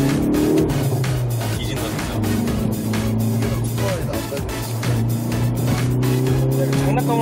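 A Hyundai Veloster N drives on a race circuit, its engine droning and rising and falling in pitch with repeated sharp exhaust crackles and pops through the run, while people talk over it.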